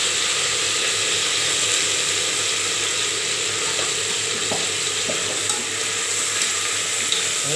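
Mint, coriander leaves and green chilies sauté in a pan with a loud, continuous hiss of frying, dotted with light scraping and clicking of a stirring utensil and no voices.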